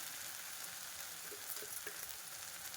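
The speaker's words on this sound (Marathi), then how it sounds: "हे पहा, आपले टोमॅटो आणि टोमॅटो प्युरी सर्व चांगलं फ्राय झालं आहे" Tomato and tomato purée frying in a pan for a pasta masala, a steady soft sizzle with faint bubbling pops, quiet and continuous with no voices.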